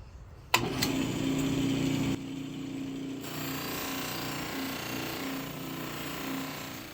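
A motorized buffing wheel switches on with a sharp thump and spins up into a steady whirring hum, then drops into a lower, rougher drone as compound is ground off against a piece of waste wood.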